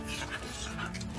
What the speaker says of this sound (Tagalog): Grabe itong hingal-hingal talaga.